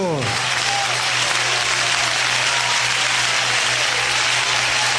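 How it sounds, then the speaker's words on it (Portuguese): Loud, dense applause from a church congregation at a vigil service, a continuous roar of clapping that fills the whole stretch after a brief voice at the start. "vamos ouvir aquela trovoada de palmas bem alegres para Cristo."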